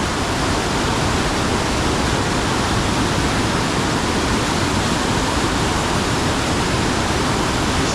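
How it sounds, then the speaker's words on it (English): Rattle Falls thunders in a loud, constant roar of falling water, close by and unbroken, with no voices over it. "You can feel the water spray here coming off the falls."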